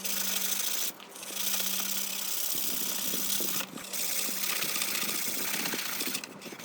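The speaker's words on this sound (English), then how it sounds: "After a lot of sanding," Steady abrasive rubbing and rasping continues for several seconds, broken by two brief pauses, with a faint motor hum underneath.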